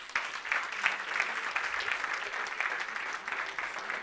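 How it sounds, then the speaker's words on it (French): A church congregation at a deliverance prayer and prophetic service bursts into sustained, dense applause to acclaim the Lord, a steady clapping roar over roughly four seconds with faint voices mixed in. "Quelqu'un acclame le Seigneur."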